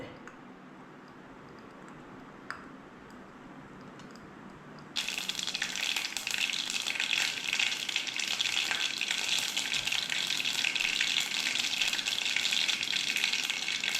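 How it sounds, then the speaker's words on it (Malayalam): Quiet kitchen background, then a sudden loud crackling sizzle of mustard seeds popping and spattering in hot oil that continues densely to the end. "കടുക് പൊട്ടിക്കഴിഞ്ഞു."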